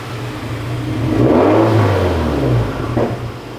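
A turbocharged Toyota 2AZ-FE engine revs on a dyno, its loud, close drone rising and falling over a few seconds with no talk.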